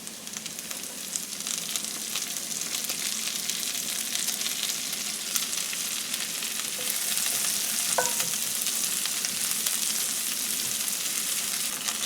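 Onions fry in garlic-flavoured oil, making a steady, even sizzle that stays close and fairly quiet throughout, with a faint clink partway through.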